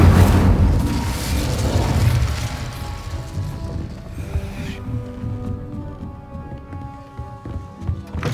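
An Incendio fire spell bursting in the game Hogwarts Legacy, a loud booming blast at the start that rumbles and fades out slowly over several seconds with low mechanical noise beneath.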